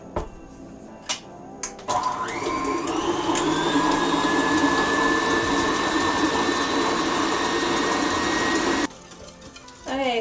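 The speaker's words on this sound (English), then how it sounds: "I'm going to go ahead and get that in my mixer and get that, start getting that whisked up." An electric stand mixer whisks cream cheese, starting up after a few clicks and running as a steady loud whir for several seconds before cutting off.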